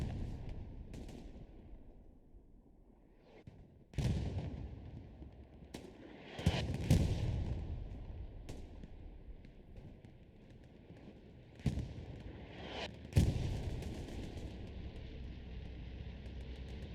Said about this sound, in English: Here comes the bombing run, ladies and gentlemen.